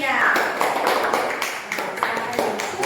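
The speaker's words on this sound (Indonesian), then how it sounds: "Berikan aplaus kepada kelompok 3." Applause from a classroom audience for a student group after their presentation, a steady patter of many hands clapping together across the whole stretch, fairly close.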